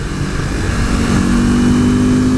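Deep, steady engine grunt from a modded 2015 KTM RC 390 single-cylinder sport motorcycle, a loud, close drone that holds and thickens slightly as the revs climb, with no talk over it.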